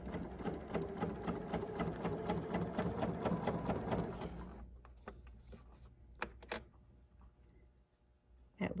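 A sewing machine stitches two quilt block pieces together for a 1930s sampler block, a steady fast mechanical run for about four and a half seconds, then stopping, followed by a few faint clicks and handling sounds.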